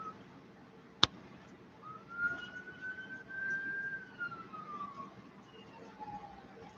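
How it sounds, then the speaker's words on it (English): A single distant siren wails in a slow rising and falling tone over low background rumble, preceded by a brief sharp click. "All these sirens."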